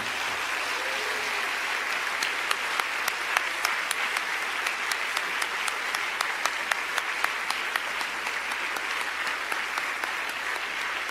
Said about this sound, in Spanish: Dele un fuertísimo aplauso al Señor.